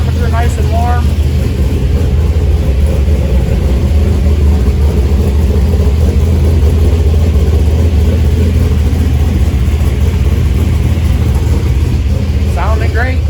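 The engine of a 1971 Chevrolet El Camino Super Sport, set up for nitrous, idles with a loud, deep, steady lope close by, and a voice is faintly heard over it.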